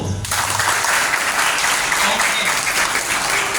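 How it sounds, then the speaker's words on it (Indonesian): Applause from a group of trainees at a school leadership training session, a dense steady patter of many hands that carries on through the clip, with a brief spoken word near the start. "Tepuk tangan dulu."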